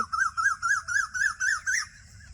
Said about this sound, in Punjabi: ਆਵਾਜ਼ ਬੜੀ ਘੈਂਟ ਲੱਗਦੀ ਟਟੀਰੀਆਂ ਦੀ